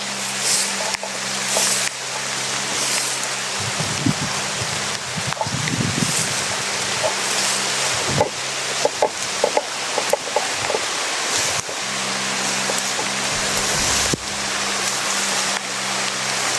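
Heavy rain pours steadily in a dense, broadband hiss, with occasional knocks and rustles close by; no one speaks.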